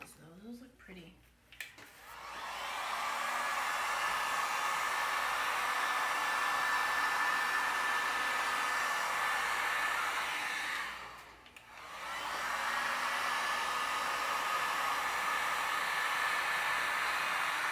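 A hair dryer blows over acrylic pour paint on a canvas in a steady, loud, close whoosh that runs for most of the clip, stopping briefly near the middle. Before it starts there are brief handling sounds.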